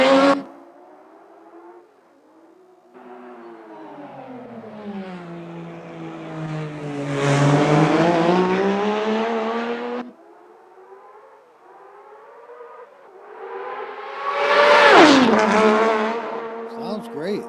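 A Porsche engine revs repeatedly, rising and falling in long sweeping pitch climbs with loud peaks around the middle and near the end, close by and with no talk over it.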